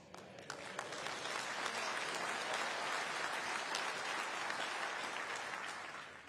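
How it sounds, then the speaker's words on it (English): Sustained applause from a large Conservative Party Conference audience in 2024, a dense wash of clapping at steady level that swells in and tapers slightly at the end, with no voices over it. "I thought you might applaud that bit"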